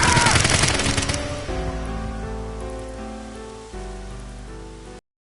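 A loud burst of rapid gunfire rattles for about a second and a half, then gives way to swelling dramatic music.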